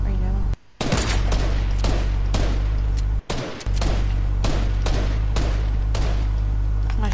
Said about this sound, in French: J'essaie de mettre des balles de sniper.